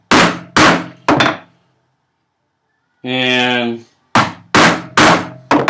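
A chisel is struck repeatedly while chopping housing dados into a wooden workbench, sharp loud mallet blows in clusters, broken by a pause and a brief spoken word.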